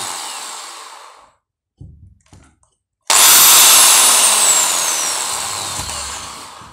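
Electric drill boring holes for coat hooks, a loud close whine that starts abruptly after a brief lull with a few small taps and slowly fades, preceded by the tail of an earlier run.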